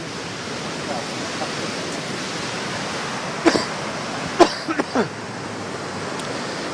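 A creek swollen by heavy rain in Mersin rushes through a narrowing channel as its flow rises, giving a loud, steady broadband roar, broken by a few brief sharp knocks near the middle.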